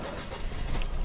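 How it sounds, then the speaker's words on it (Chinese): A Mercedes W124 230E engine cranks on a cold start, a short, loud, rough mechanical churn heard close up. "大哥冷车要发动了。"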